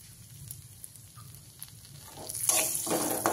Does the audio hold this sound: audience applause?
no